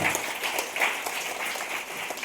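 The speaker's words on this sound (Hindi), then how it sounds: "मैं चाहूंगा एक जोरदार ताली होनी चाहिए" Audience applause from a seated crowd at a training session, steady and fairly faint, a continuous patter of many hands over about two seconds with no talk.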